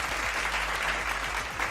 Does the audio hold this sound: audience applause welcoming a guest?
yes